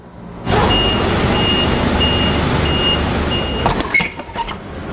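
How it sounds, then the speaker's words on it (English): A delivery truck carrying diapers and baby formula reverses at a food bank, its backup alarm giving five evenly spaced beeps over a loud engine drone, followed by a few clanks and rattles as it stops. "A truck carrying diapers and baby formulas delivers its load to the food bank."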